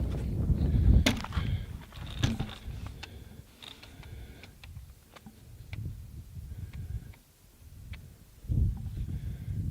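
Single sharp rifle shot from a Russian survival rifle fired at a paper target outdoors, a loud crack near the start followed by quieter clicks and mechanical handling sounds, with a second muffled thump near the end.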